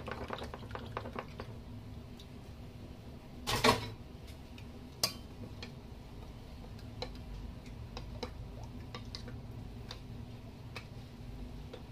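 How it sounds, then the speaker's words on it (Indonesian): Quiet ticking and clinking of a utensil stirring colored tapioca and wheat flour batter in a bowl, soft repeated taps with one louder scrape, close and steady without talk. "Lalu aduk setiap warna. Pastikan tercampur."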